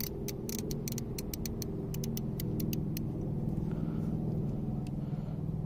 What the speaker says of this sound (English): I believe this is a 72 tooth ratchet.